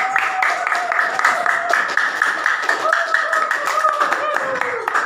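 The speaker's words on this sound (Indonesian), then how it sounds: "Kita beri tepuk tangan dulu. Tim penyaji." A classroom applauds a presenting team with brisk, continuous hand clapping from many students, close and fairly loud, with voices mixed in throughout.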